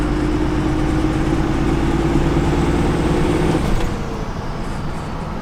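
Diesel engine of a 2nd Gen Cummins truck under boost, a loud steady drone with a faint rising turbo whistle that cuts off near the end as the engine note drops.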